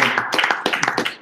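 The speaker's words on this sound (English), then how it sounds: "round of applause for Brian" A small audience at a closing plenary of a computational law course claps for Brian, a few close, uneven bursts of hand claps over roughly a second, fairly loud and brief.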